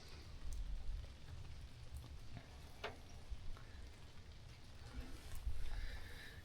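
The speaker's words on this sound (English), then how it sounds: "It started around 8 and it's been raining ever since." Rain falls on a van roof on a late-June night in the Pacific Northwest, a dense steady patter with occasional sharper drops, heard from inside, fairly quiet, with no voices.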